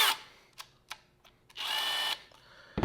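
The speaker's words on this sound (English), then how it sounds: "It's a pretty versatile little tool, a little band file, a little belt sander, whatever you want to call it." A DeWALT DCM200 cordless band file belt sander runs in short bursts: a few brief clicks and revs, then a steady high whine for about half a second before stopping, close and fairly loud.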